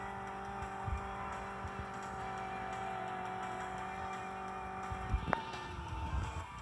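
Car drifting in a racing video game, a steady engine drone with a sharp tire squeal bursting out near the end, fairly loud and with no talk over it.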